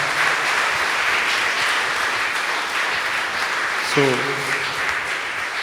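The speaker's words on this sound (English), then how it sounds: "Let's give them a big round of applause" A church congregation at a confirmation Mass claps in sustained, dense applause that fills the room, while a voice speaks briefly near the end.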